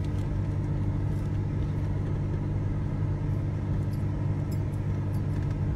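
Road vehicles in a stopped line, a steady low engine hum and idling rumble throughout, moderately loud with no distinct pass-by and no talk.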